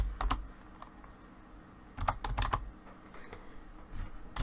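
Typing on a computer keyboard, short clusters of close, light key clicks with pauses between bursts, no voices.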